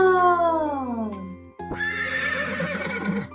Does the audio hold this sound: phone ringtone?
no